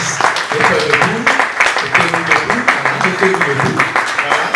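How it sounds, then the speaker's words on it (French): Audience applause at an academic talk on research policy and artificial intelligence, a dense sustained clapping from a crowd with a voice speaking over it. "Merci d'applaudir ces héros"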